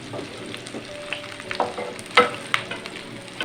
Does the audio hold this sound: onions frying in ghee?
yes